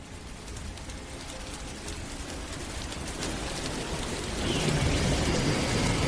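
Heavy rain pours down steadily and grows louder toward the end, with a low rumble of thunder mixed into the downpour and no voices.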